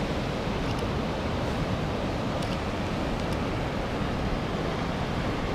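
Ocean waves roll onto a shore in a broad, steady wash of surf noise, moderately loud and continuous with faint hissing swells and no voices.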